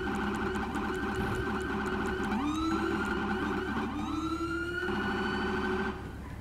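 A police car siren in a video game wails nearby in rising and falling sweeps over a steady engine-like hum, continuous for several seconds before easing off at the end.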